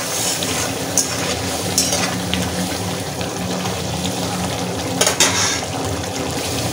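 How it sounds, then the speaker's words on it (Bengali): Egg curry with kankarol (spiny gourd) cooks in a pan, giving a steady, moderately loud bubbling sizzle, with occasional sharp scrapes and knocks of a spoon as the mixture is stirred. "মাঝে মাঝে একটু নেড়ে নিতে হবে বন্ধুরা। এই যে নেড়ে নিচ্ছি।"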